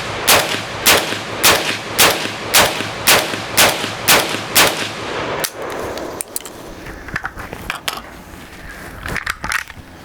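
A PTR 32P pistol chambered in 7.62x39 fires about nine loud shots in a steady, evenly spaced rhythm, followed by scattered metallic clatter and handling noises.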